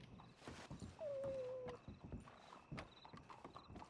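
A horse in Red Dead Redemption clops its hooves in a quiet game scene, faint footfalls broken by a short whinny-like tone in the middle, with no talking.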